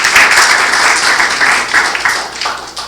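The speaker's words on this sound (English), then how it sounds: "So a round of applause for everybody for putting this all together." An audience at a men's health summit bursts into loud, dense applause that carries on steadily for a few seconds before easing slightly.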